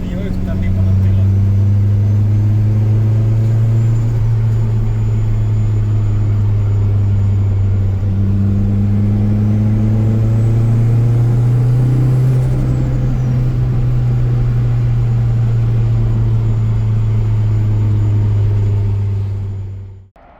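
A Honda car on the road, its engine giving a loud, steady low rumble from inside the cabin that holds for about twenty seconds, with faint wind and road noise on top.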